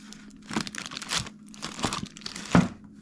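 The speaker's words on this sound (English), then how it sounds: "I've got the old double-sided tape here" Old double-sided tape pulled from car badges during paint and panel work on a VX Calais LS1 skid car, giving close crinkling and tearing rustles in several uneven bursts.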